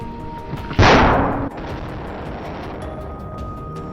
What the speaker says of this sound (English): pulled the trigger. The shot rang out, and the boar collapsed, tumbling down the hillside by momentum